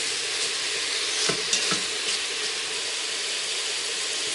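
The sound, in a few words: pork belly sizzling in Instant Pot with ginger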